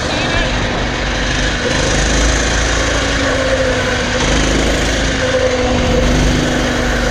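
A Coleman CT200U-EX mini bike engine, a roughly 200cc small engine with the governor screw still in, runs steadily at close range with a continuous buzzing drone and steady vibration throughout.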